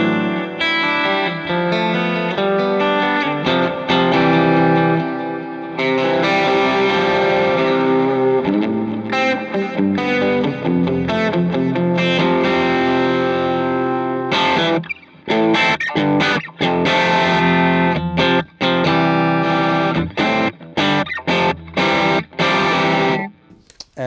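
Electric guitar played through a TC Electronic Plethora X5 pedalboard, with drive ahead of reverb and delay, giving dense distorted chords and riffs wrapped in echo and ambience, loud and continuous with brief stops and choppier stabs near the end.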